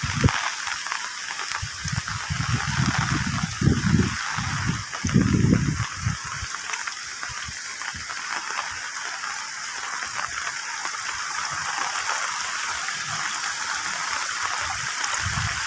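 Heavy rain pours steadily on a remote village in Trenggalek, with wind and flowing water making a broad, continuous rushing hiss; some low rumbling bursts occur early on.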